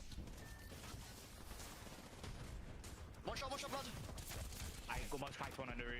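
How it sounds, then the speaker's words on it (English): Video game gunfire, a dense run of rapid shots over a few seconds, with excited voices talking and shouting on top. "What kind of shots were those?"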